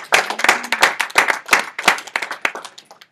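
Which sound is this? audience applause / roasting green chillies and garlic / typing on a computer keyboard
audience applause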